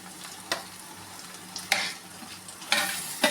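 Chopped tomato sautéing in a pan for egg biryani, heard as a soft steady sizzle broken by a few sharp scrapes of a stirring spoon, close by with no talking.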